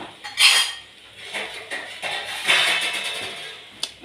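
A metal lid clatters onto a cooking pot holding dried red chillies, garlic, shallots, curry leaves, cumin and mustard seeds, with several close, bright clinks and scrapes of metal cookware and no talk.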